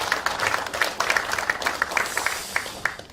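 An audience at a large political gathering in Cheonan claps for a party leader, a moderately loud patter of many hands with distinct sharper claps standing out over a few seconds.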